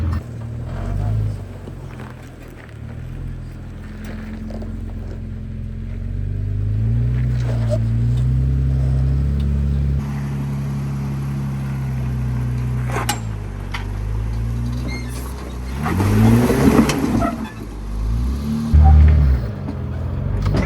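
A lifted Jeep on 40-inch Milestar Patagonia tires and a 4-inch long-arm kit crawls a hard Moab trail, engine rumbling low and steady with surges of revving, tire and rock scrapes near the end, people talking over it.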